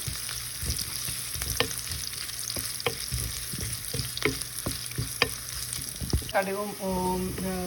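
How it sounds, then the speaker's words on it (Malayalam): Mustard seeds, urad dal and onion fry in oil as a tempering for a coconut mint chutney. A steady close sizzle is dotted with sharp, scattered pops and crackles. "കടുക് വറുത്തത് ഇപ്പോൾ നല്ല ഇതായിട്ടുണ്ട്"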